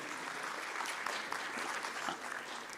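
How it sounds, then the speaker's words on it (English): An audience at a conference applauds in a brief, dense burst of clapping that stays fairly even throughout. "let's have a big round of applause for all of them"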